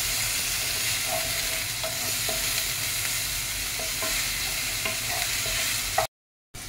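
Onion and garlic masala being stir-fried for a non-vegetarian aloo chop: a continuous loud sizzle under repeated spoon scrapes and taps, then an abrupt cut to silence near the end.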